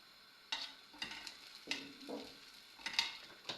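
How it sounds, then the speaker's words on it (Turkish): Mint and chili flakes being stirred into a pot of chickpea manti soup, with several distinct scraping stirs and a light sizzle, close and moderately quiet. "Şu şekilde güzelce karıştıracağım."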